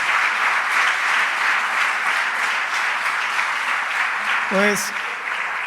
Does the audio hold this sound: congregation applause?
yes